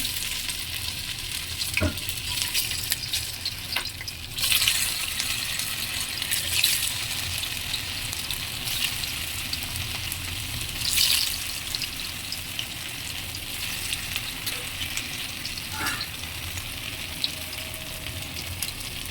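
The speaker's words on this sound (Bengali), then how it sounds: "কড়াইতে আমি তেল বসিয়ে নিয়েছি এখন একটা একটা করে ভেজে নিব" Stuffed pumpkin leaf fritters fry in hot oil in a wok, a steady loud sizzle lasting throughout, with occasional scraping and stirring clatters, and no voices.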